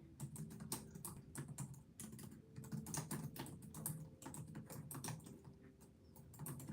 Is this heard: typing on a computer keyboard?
yes